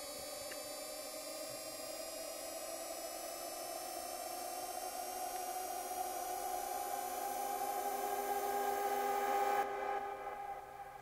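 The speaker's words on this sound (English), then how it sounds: "a nice little fade away there with some reverb and some delay sends" A techno track fades away, washed in reverb and delay, a dense sustained synth drone with smeared tones that swells slightly and then cuts to a thin tail near the end.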